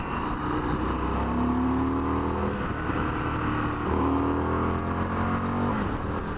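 An Indian FTR1200 motorcycle accelerating up through the gears, its engine note rising in pitch, dropping at each shift and climbing again, heard steadily from the rider's position with wind noise.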